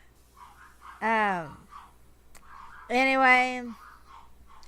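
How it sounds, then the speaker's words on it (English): Two dogs let out drawn-out whining barks in two separate bursts at close range, with a quiet voice speaking between them. "they literally stand by the door and bark constantly"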